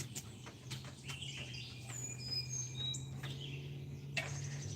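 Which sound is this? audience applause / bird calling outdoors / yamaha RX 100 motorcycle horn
bird calling outdoors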